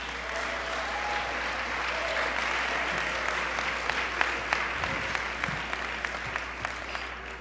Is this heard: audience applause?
yes